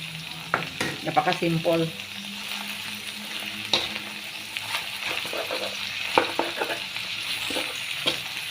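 Cabbage and pork being stir-fried in a pan: a quiet sizzle with clinking and scraping stir strokes, busier at the start and then sparse, with a brief spoken word.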